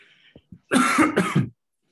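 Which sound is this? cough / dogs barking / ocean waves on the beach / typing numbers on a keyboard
cough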